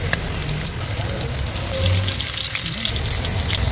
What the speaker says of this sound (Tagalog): Maglalagay na tayo guys ng chicken at mainit na yung mantika.